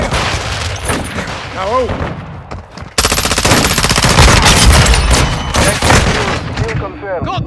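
Rapid automatic gunfire in Call of Duty: Modern Warfare II, bursting loud and close with dense rattling volleys, a pause and then sustained fire, while voices shout briefly between bursts.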